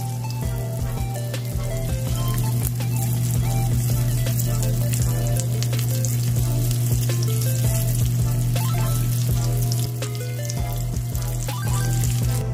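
Eggplant omelette with ground pork fries in a pan, giving a continuous crackling sizzle over a steady low hum, with no voices.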